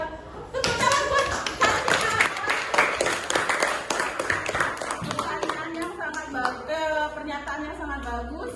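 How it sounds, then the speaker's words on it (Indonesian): A small group claps for several seconds, the applause thinning out as a person starts talking over the last scattered claps. "tepuk tangan buat"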